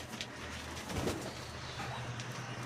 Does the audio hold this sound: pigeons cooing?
yes